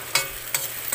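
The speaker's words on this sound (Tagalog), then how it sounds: "Halo-halo natin dyan para masarap" Food frying in a pan and being stirred, with crackling sizzle and three distinct scraping strokes of a utensil, close and clear.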